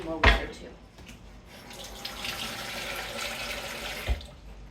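Water runs from a kitchen tap into a pot for boiling potatoes, a steady splashing rush after a brief knock, continuing close and moderately loud to the end.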